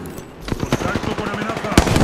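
Rapid bursts of gunfire in Apex Legends, sharp close shots firing in quick succession over two seconds, with a voice speaking over the shooting.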